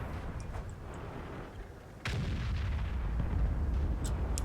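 A tank cannon fires in the World of Tanks video game. It makes a single loud, sharp blast with a booming tail, set against low battle ambience.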